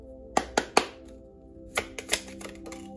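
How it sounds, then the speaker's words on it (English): Tarot cards being shuffled by hand, several sharp close riffles and taps in two quick bursts separated by a short pause. "Let me do a quick little shuffle here."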